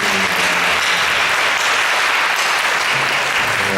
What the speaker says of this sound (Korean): 우리 다시 한번 뜨겁게 박수로